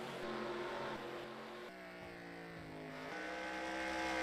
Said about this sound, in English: The gearbox sounds like it's failed.